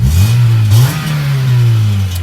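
A Honda CR-V with 194,000 miles starts and revs, its engine swelling loud and close, dipping and climbing again before settling into a steady idle with no talk.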